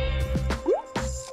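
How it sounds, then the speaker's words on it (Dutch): Liquid with food colouring and soap is poured into a plastic bottle, making close, loud plops and drips with a rising gurgle, with a constant tonal hum underneath. "Ik giet het gewoon in het flesje."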